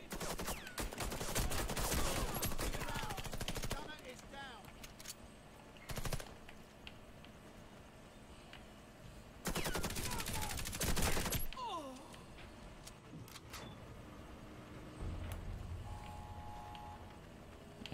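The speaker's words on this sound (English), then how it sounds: "I'm using MP5 with the holographic sight and the suppressor." Suppressed MP5 fire with a holographic sight in the Xbox shooter Warface: several loud bursts of automatic gunfire, clustered near the start and middle, with quieter game effects between them.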